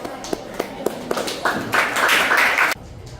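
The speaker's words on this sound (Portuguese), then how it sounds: "de palmas para o Mateus" Applause for Mateus at a classroom talk on race and culture, opening with a few scattered claps that swell into a short burst of steady clapping before stopping abruptly.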